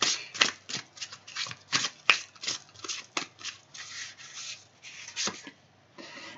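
Tarot cards being shuffled and handled up close before one is drawn, a series of quick papery riffles and rubbing slides in irregular bursts, with no speech over them.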